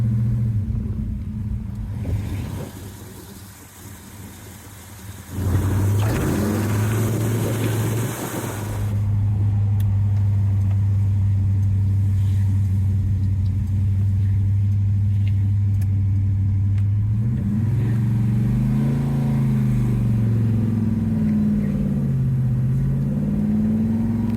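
A 1970 Chevelle SS with an LS5 454 V8 and four-speed rumbles at idle with a deep, loping burble, then revs up in a couple of swelling throttle blips before settling back, heard close with no talking.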